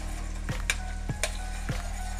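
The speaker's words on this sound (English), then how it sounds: "You just want to just stir them till you start to smell the fragrance from the onion and the fresh garlic cloves." Onions and fresh garlic cloves sauté in a pan under a steady low sizzle, while a utensil clicks and scrapes against the pan about four times in an unhurried rhythm.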